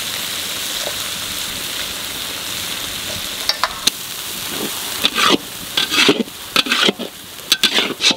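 Ground cumin, coriander, turmeric and Kashmiri chili sautéing in a pan: soft continuous sizzle, then a run of sharp, irregular spatula scrapes and clatters growing busier toward the end, close by with no talking.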